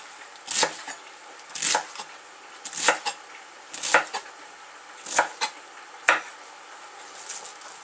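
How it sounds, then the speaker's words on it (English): A knife chops food for a sausage casserole on a hard board in a home kitchen, about eight sharp, close knocks at an uneven, unhurried pace with quiet pauses between them. "and then just chop"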